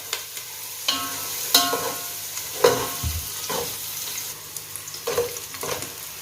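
Onions sauté in a pan for Arabian chicken majboos, a close, continuous sizzle with several clattering stirs and scrapes at irregular moments, no voices over it.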